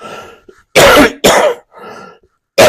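A preacher coughs hard several times in quick succession, three loud close bursts separated by short pauses and quieter throat sounds, with no other sound around them.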